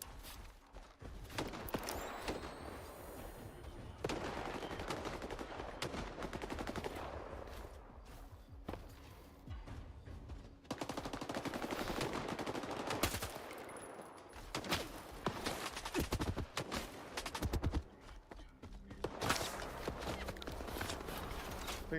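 Rapid bursts of gunfire in the shooter S.T.A.L.K.E.R. 2 on PS5, repeated volleys of shots with gaps between them, fairly faint and mixed with other game sounds.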